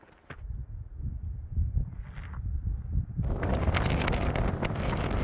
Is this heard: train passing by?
no